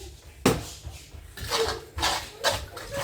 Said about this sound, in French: Désolée du bruit, je mélange.